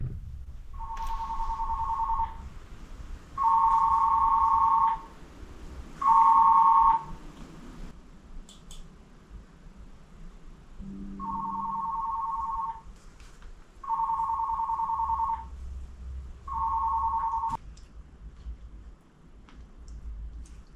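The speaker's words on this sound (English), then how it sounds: "Let me just let you hear how much the phone rings." An office desk phone rings repeatedly, sounding in six separate electronic bursts of a couple of seconds each with short pauses between, clear and fairly close against a quiet room hum.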